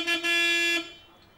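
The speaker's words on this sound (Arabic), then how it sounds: "لك يلا خف رجلك، مو سامع الزمور؟" A car horn honks in a street scene, two sustained blasts with a short break between them, loud and close, then fades into background noise.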